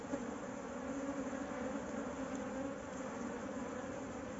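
Dense swarm of bees from a colony living in a tire hive, a steady continuous buzzing hum holding even and fairly faint from start to end, with no other sounds over it.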